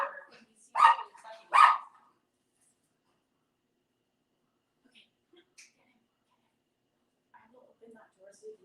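A small dog lets out two loud, excited yaps in quick succession, close up. Then comes a long quiet stretch with only faint, scattered sounds.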